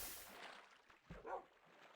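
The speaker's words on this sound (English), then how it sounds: "Oh, I hear a dog." A wolf in Minecraft Beta 1.7.3 gives a few faint, short barks and yips at quiet game volume, spaced apart against a soft background.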